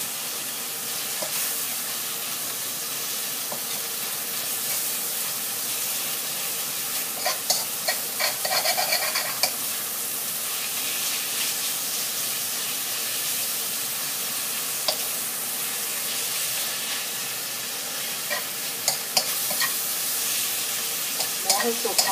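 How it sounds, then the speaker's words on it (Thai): Pork stir-frying in a pan for a Thai dish, a loud continuous hiss of frying with frequent scraping and clattering of a spatula against the pan throughout, close up and without speech. "ถ้าจะผัดหมูให้สุกก่อนนะคะ"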